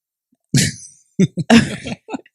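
A few sharp coughs and throat clearings in short bursts, close and loud, with brief silences between.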